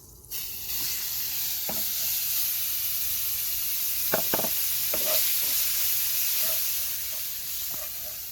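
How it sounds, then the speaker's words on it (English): Steady sizzling and hissing of bacon frying close up in a pot, with occasional scraping stirs and light pops over the constant crackle. "now we just need to add our bacon to this"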